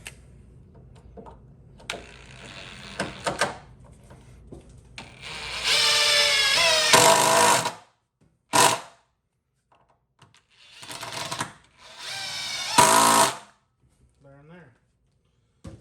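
A power drill drives two screws into wooden workbench boards in bursts of whirring, close and fairly loud, with quieter handling clatter and brief speech between.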